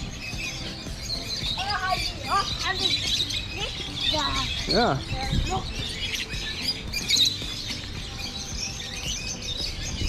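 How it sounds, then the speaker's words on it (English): Small birds chirp and tweet in an enclosure at an aquarium marine park in Hawaii, with short high calls scattered over the clip beneath steady background murmur and brief talk from people nearby. "There's some cute little birdies in here."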